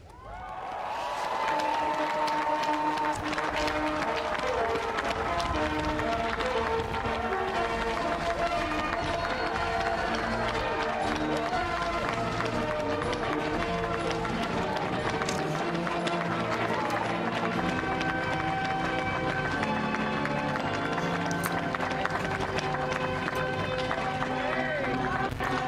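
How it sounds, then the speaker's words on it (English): A large crowd at a US presidential inauguration cheers and applauds steadily and loudly for Vice President-elect Kamala Harris, a dense sustained roar with music-like tones running underneath throughout. "Those cheers you hear are women, black and white, all around the world cheering for Kamala Harris."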